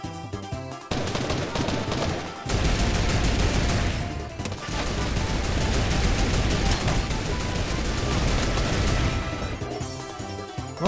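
Sustained gunfire in Fortnite: loud, rapid automatic bursts and scattered shots crackling nearly continuously, with short pauses between volleys and no talking over it.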